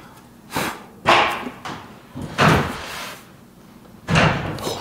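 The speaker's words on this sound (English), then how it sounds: "I just had a door close on me." Inside a hotel, a door slams and bangs several times in quick succession, loud and close, with dull thuds echoing between the hits and no talk.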